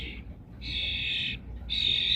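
A female starling begs to be fed, giving two or three harsh, high, raspy calls in quick bursts, close and fairly loud against a quiet background.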